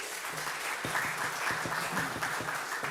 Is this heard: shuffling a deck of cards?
no